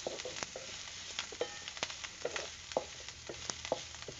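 Sliced onions frying in a pan while being stirred, a faint steady sizzle broken by scattered soft scraping clicks of the spoon.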